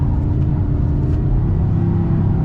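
An Audi R8 GT at full throttle while drifting in Torque Rear mode, its engine a steady, close, loud rumble held evenly throughout.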